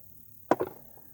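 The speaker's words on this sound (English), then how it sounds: "you'll hear that crack sound. That's just it breaking loose" A crusty, seized screw breaks loose with a single sharp crack followed by a second, softer snap, close and clear in an otherwise quiet space.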